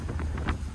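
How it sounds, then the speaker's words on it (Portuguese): Wind roaring into an old VW Gol hatchback driving with no windshield, a steady low rumble of buffeting air with a few brief gusty swells, close and fairly loud, with no talking. "Acelerando o golzão, sem para-brisa, cabelo ao vento."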